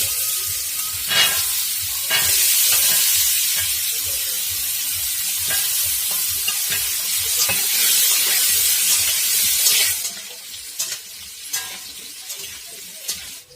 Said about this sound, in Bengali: এবার আমি এর মধ্যে আলু দিয়ে দিচ্ছি